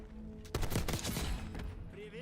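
Light machine gun and submachine gun fire in a video game firefight at close range, a dense burst of overlapping shots starting about half a second in and running to near the end, loud and close.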